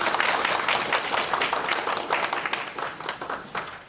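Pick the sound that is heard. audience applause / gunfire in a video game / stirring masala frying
audience applause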